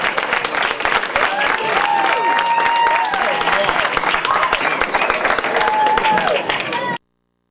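A banquet crowd applauds for about seven seconds, loud sustained clapping mixed with whoops and whistles before it cuts off abruptly.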